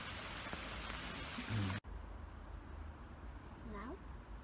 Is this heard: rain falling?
yes